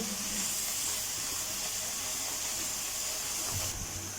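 Onion and garlic fry together in a pan for chicken achar karahi, giving a soft, steady hiss and sizzle that holds evenly throughout without pause.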